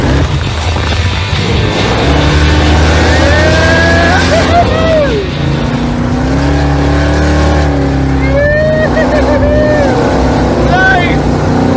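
A heavy Roadkill car accelerating, its engine droning loud and close with rising and falling revs, while people talk over it.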